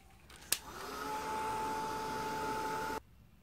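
A heat gun blows steadily for a few seconds, melting copper embossing powder on a mixed media craft piece. A click starts it, then a loud, even whirring hum with a faint whine holds steady before stopping abruptly.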